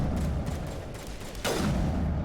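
A rifle fires in the video game Mass Effect Legendary Edition, with a steady rumble of combat underneath and one sharp, louder shot bursting out near the end.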